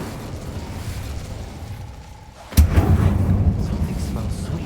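Incendio fire spell cast in the Hogwarts Legacy video game, a sudden loud burst at about the midpoint followed by a sustained roaring rumble after a quieter stretch.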